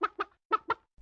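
A hen clucks four times in two quick pairs, close and clear, with short silences between the clucks.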